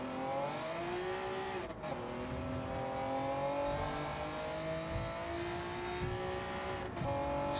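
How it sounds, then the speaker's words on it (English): A 1992 Honda NSX Type R in Gran Turismo 7 races on the Tokyo Expressway, its engine holding a loud, steady high rev with rising pitch sweeps and brief dips at gear changes. "It's a Honda, rev it out, give it its head, go on."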